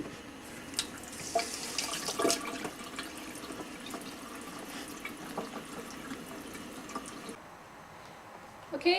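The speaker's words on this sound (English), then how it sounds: "I'm going to rinse my hair out" Cold tap water runs steadily into a sink while hair is rinsed, a faint, close splashing and trickling with a few drips, ending in a brief quieter stretch.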